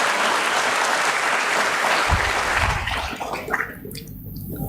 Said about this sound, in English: a big round of applause for all the people who work.